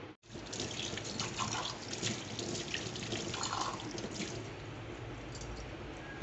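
Running tap water splashes over a brass pooja vessel being rinsed at a sink, a steady close gush that stays even throughout, with no voices.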